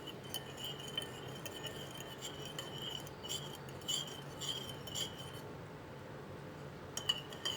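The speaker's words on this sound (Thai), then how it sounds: "จากนั้นก็คนส่วนผสมให้เข้ากันค่ะ" Shrimp and water mimosa salad ingredients get stirred together in a bowl, with a spoon clinking softly and repeatedly against the side in an uneven rhythm, close and fairly quiet, with no talking.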